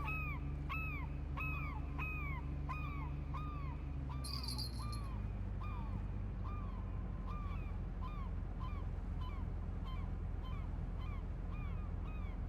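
Crows caw in a steady series of repeated calls in the fishing video game Fishing Planet, fairly loud over a constant low ambient hum, with a brief high-pitched sound near the start and no talking.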